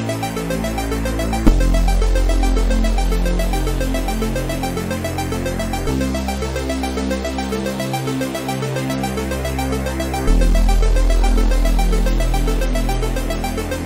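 Full synthwave track built with LMMS native instruments, with a steady bass line, layered bright synth chords and pulsing rhythm playing continuously and loud throughout, with no talking.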